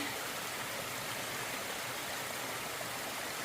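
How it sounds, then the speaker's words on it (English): A small waterfall on the Appalachian Trail rushes in a steady, close, continuous wash of splashing water, with no voices. "Just love little waterfalls when they're not super loud."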